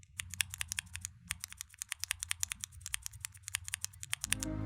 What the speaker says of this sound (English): Gateron Milky Top Yellows are somewhat scratchy and tend to have an unpleasant sound